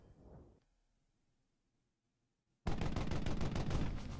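Rapid gunfire in the World War II shooter game Brothers in Arms: Hell's Highway bursts in loudly after a near-silent pause, a dense run of close shots that continues to the end.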